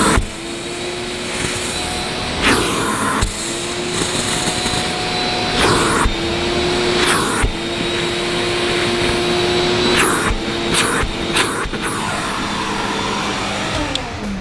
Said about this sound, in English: You have to have a shop vac.